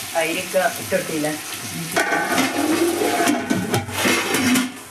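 Chicken masala for biryani fries in a pan with a loud, close sizzle and bubbling. A voice murmurs briefly at the start, then stirring scrapes and spitting bursts continue to the end.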